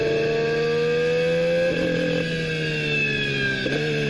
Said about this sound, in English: The sound of a Honda engine in 2026.